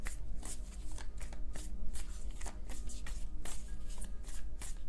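Tarot cards riffled and shuffled repeatedly up close, a rapid run of crisp papery flutters and taps with no talking.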